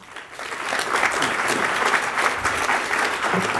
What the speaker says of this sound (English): let's give Keith Nellesen a round of applause